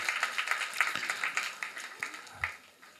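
Audience applause after a dance school performance, a steady patter of many hands clapping in a hall, moderately loud and sustained, fading slightly toward the end.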